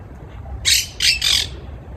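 Green birds in a tree outside a house let out three harsh, shrill squawks in quick succession, fairly close and loud against quiet outdoor background.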